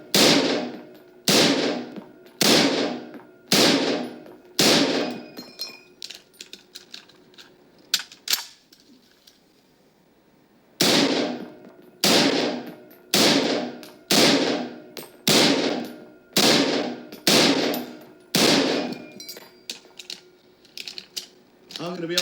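M1 Garand rifle fire at a steel target during a rapid-fire drill: about fifteen sharp, loud shots in a quick, steady rhythm, each followed by a short ringing decay, with a brief lull midway before the firing resumes.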